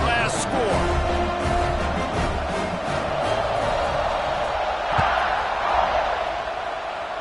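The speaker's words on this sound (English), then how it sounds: "this crowd is buzzing after that last score" Stadium crowd at a college football game, Alabama, keeps up a steady loud buzz and roar after a score, with a play-by-play voice talking over it throughout.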